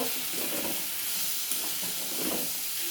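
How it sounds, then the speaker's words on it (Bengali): Fried potatoes stirred into spices and melted tomatoes in a hot pan for a chickpea ghugni, giving a steady close sizzle with soft scraping stirs throughout. "এবার আমি ভেজে রাখা আলুগুলো দিয়ে দেবো, দিয়ে আবার একটু কষিয়ে নেব।"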